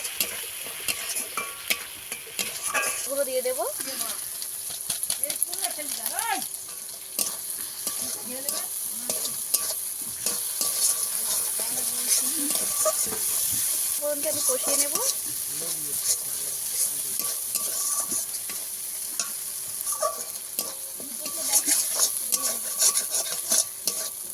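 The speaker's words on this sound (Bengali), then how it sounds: "সব মশলা একসঙ্গে কষিয়ে নেবো" Mixed spices sizzling and being stirred together in a pan for a khalse fish curry, a continuous close frying hiss with constant scraping and stirring, no voices.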